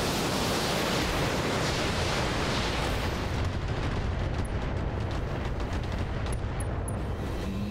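Mech weapons fire in the Battletech video game as a dense, roaring wall of blasts and rumbling impacts. It runs loud and unbroken for several seconds, with sharper cracks near the end and no talking.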